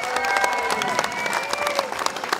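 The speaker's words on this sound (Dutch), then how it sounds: "applaus voor de derde van vandaag, Philippe Walsleben." A crowd at a cyclocross podium ceremony applauds the third-place finisher, giving dense, steady clapping mixed with a few cheers and a voice over the crowd.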